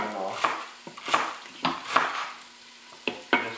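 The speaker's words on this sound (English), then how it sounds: "let them saute up just a little bit" Vegetables sauteing in a pot for homemade chicken noodle soup, stirred with a spoon in several separate scrapes and clanks over a soft sizzle, heard up close with no talking.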